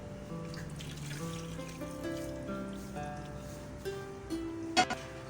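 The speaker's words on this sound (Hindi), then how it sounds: "हाफ कप जाएगा इसमें पानी।" Half a cup of water pours into a ground spice paste of tomato, onion, chili, garlic and ginger for chicken curry, a steady soft trickle with light splashes and a few drips near the end.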